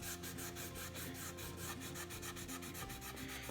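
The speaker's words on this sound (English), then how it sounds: "So you go along here and you rub your paint off." A wet rag rubbing dry paint off the edges of wood furniture for a farmhouse distressed finish, heard as quiet, rhythmic back-and-forth scrubbing strokes, close and faint.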